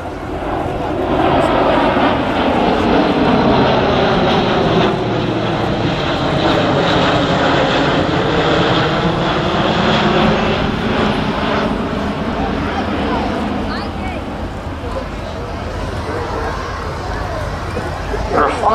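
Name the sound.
Airbus military A400M Atlas aircraft flying at air show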